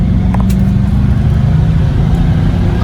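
A 1969 Chrysler Esplanada with a small-displacement engine runs loud and close from inside the cabin, a steady low engine drone with slight revving as it pulls.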